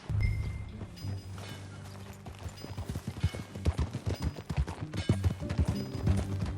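Horse hooves in the video game Red Dead Redemption 2, a quick rhythmic clip-clop of a ridden horse picking up pace, fairly close and clear over a low hum of game ambience.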